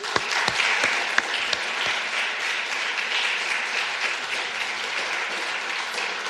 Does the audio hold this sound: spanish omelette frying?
no